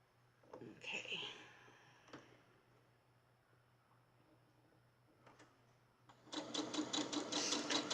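A domestic sewing machine fitted with a quarter-inch presser foot stitches cotton charm squares, whirring close and steady in a closing burst, after quieter handling and a few clicks; a voice talks softly early on.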